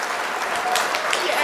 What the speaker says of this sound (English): That's called applause.